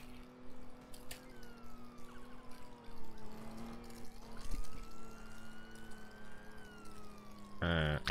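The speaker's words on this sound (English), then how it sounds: "Okay, that's a police siren." Police car siren in the ER:LC roleplay game, a steady wailing tone that rises and falls, fairly clear with no talking, ending in a brief loud burst.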